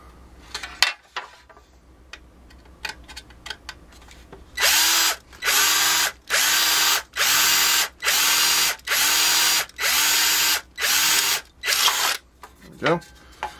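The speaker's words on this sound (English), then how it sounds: "And I'll drill this one now." A power drill bores a hole during model train layout work, whirring loudly in about eight steady, evenly spaced bursts after some quieter clicks and handling noises.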